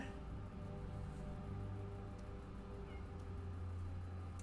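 A house cat meows indoors, faint and partly buried under a steady low hum; the calls are soft and sporadic rather than loud or continuous.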